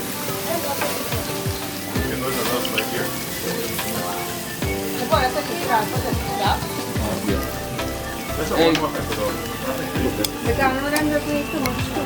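Seasoned pork sizzles and crackles steadily on a barbecue at an outdoor gathering, with loud continuous frying hiss, occasional scraping and stirring, and people talking over it.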